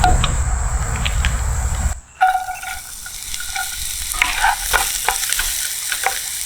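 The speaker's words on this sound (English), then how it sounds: "saute shallots in garlic and butter, which we'll be doing right now" Shallots, garlic and butter sauté in a pan for an au poivre steak sauce, giving a steady close sizzle with stirring scrapes, broken by a brief gap before the crackling resumes.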